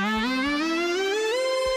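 A tap guitar preset on the Artiphon Instrument 1 in GarageBand plays a short run of plucked notes, each stepping upward in pitch with a soft attack, clear and close with no talk.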